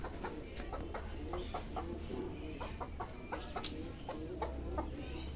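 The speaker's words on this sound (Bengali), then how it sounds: "এখানে এই যে নতুন মোরগটা" A newly tied rooster clucking in short, repeated low calls outdoors, faint against a steady background hum, with no talking.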